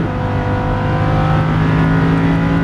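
A Lamborghini Huracan LP610-4 on a track at full throttle, its loud engine holding a steady, rising roar from close inside the car.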